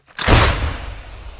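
A single artillery gun fires one shot, a sudden heavy boom with a deep rumbling tail that fades out over about a second, loud and close, with no voices.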